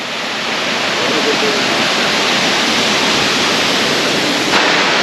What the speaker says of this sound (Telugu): మీరు ఆ వాటర్ ఫాల్స్ పైకి కూడా ఎక్కొచ్చు